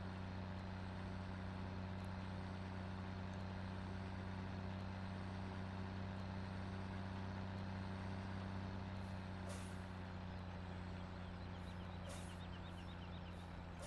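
A fast truck drives in Farming Simulator 17, a steady, droning engine hum with a constant low tone held throughout, plus a few faint higher ticks late on and no talking.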